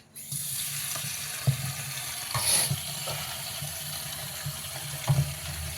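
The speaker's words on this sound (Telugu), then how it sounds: "వాటర్లో బాగా కడుక్కొని ఒక కప్పు మినపప్పు తీసుకున్నది 2 కప్పులు ఇడ్లీ రవ్వ తీసుకుంటున్నాం అనమాట" Urad dal and idli rava being washed in water for hotel-style idli batter: a steady close rush of running tap water into a vessel with occasional splashes and knocks, no voices.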